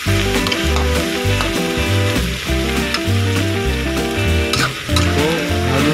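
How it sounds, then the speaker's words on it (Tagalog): Chicken sizzles loudly in a hot pan while it is stirred over and over, giving a dense frying hiss with rhythmic scraping and clattering from the stirring. "So, halo ng halo si chef."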